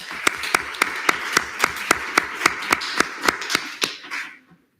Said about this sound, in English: So I want to give a round of applause to them.